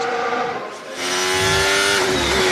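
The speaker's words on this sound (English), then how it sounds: "This is the sound of Charles Leclerc with his little mistake" A Formula 1 car engine screams at high revs during practice at the Hungarian Grand Prix, dipping briefly after a driver's small mistake before surging back up to a sustained, loud, whining roar.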